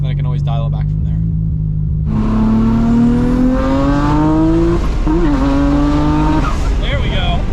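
A Nissan R34 GTR revs hard and climbs through gears with flat-foot shifts, the engine note rising in loud sweeps with brief cuts between gears, close up and steady throughout.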